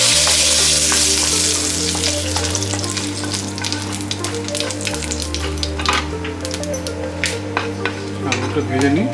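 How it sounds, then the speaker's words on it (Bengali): Whole spices such as bay leaf, black and green cardamom, cinnamon and cumin sizzle loudly in hot oil in a pan, a steady close crackle with light stirring. "তেল গরম হয়ে গেছে, এখন ফোড়নে দিয়ে দিলাম"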